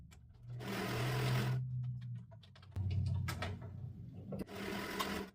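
A sewing machine stitches fabric in several bursts of rapid mechanical whirring, each run a few seconds long, with brief pauses and faint handling noises between them.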